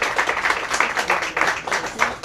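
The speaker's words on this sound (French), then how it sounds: "J'ai un tonnerre d'applaudissements s'il vous plaît pour Evelyne Rest" An audience applauds for Evelyne Dress at the close of an interview, producing a steady patter of claps that swells in even waves and stays moderately close.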